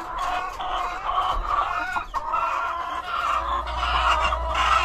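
A flock of chickens cluck and murmur continuously on a small farm, close and overlapping, with occasional louder calls over a low background hum.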